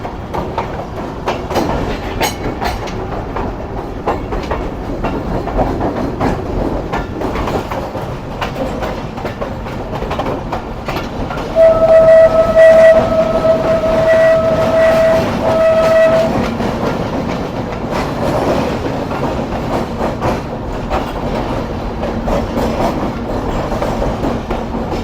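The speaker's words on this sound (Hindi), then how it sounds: "RG 25102 के साथ ट्रेन हमारी सक्खर रेलवे स्टेशन पर अप्रोच बना रही है।" A train rumbles loudly and steadily on its approach to Sukkur railway station in Pakistan, wheels clattering over the rails, with a sustained horn blast sounding midway through.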